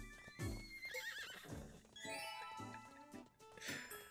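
A horse neighs and whinnies as it joins the party in Miitopia, a bright cartoonish call with clip-clopping hooves and a jingling game musical cue layered around it, fairly close and clear.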